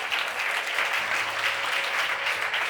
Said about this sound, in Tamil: கைத்தட்டி கர்த்தரை மகிமைப்படுத்துங்க பார்ப்போம்.